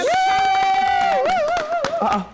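An audience claps at a cooking event, steady sharp claps that sound close and fairly loud. A sustained high sung or held voice carries over them, rising and wavering near the end.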